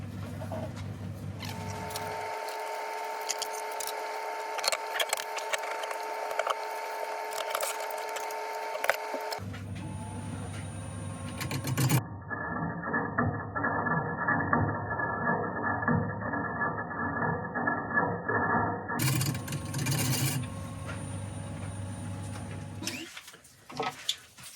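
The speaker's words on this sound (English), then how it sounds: "I'm going to throw this back in the lathe and just turn this back" Wood lathe spinning a sulphur-inlaid turning, a steady machine hum and whir that stops partway, then restarts with a brighter, rougher rushing tone, continuous and fairly close with no talk.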